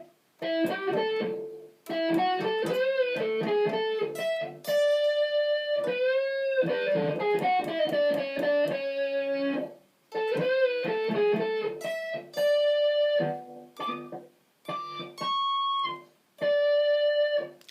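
Electric guitar lead phrases played alone, clean sustained notes with bends and slides, broken by short pauses between runs.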